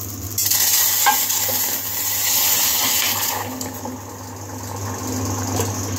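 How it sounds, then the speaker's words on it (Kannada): Milk poured into a hot bowl still on a lit gas stove sizzles and bubbles loudly at first, then settles into a softer steady hiss with faint stirring clinks. "ನಾನು ಗ್ಯಾಸ್ ಆನಲ್ಲಿ ಇಟ್ಟಿದ್ದೆ, ಅದಕ್ಕೆ ಅಷ್ಟೊಂದು ಸೌಂಡ್ ಆಯಿತು"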